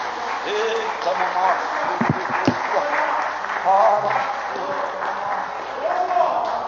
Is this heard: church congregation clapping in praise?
yes